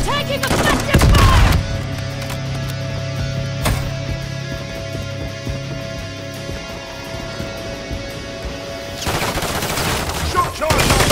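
Sustained automatic gunfire in a Call of Duty Modern Warfare III hardpoint match on the Rio map, with dense, loud bursts, a steady electronic drone under the firing, and a brief voice near the start.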